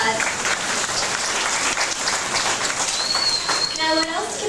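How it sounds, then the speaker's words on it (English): Audience applause on the Disney-MGM Studios Backlot Tour at Walt Disney World in 2001, following the Catastrophe Canyon storm effects; dense, steady clapping from a crowd fills the clip, with a high whistle-like tone near the end. "Let's give them both a round of applause."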